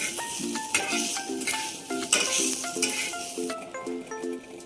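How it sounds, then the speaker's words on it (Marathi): Onions frying in oil are stirred in a pan, with light sizzling under repeated metallic clinks and scrapes of a spoon against the vessel, close and brief, no talking. "कांदे फिरून घेतो."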